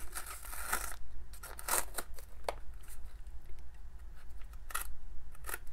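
Dull scissors snip through gift-wrapping paper in a few sharp, crisp bursts, with faint rustling of paper between cuts, close by and with no talking.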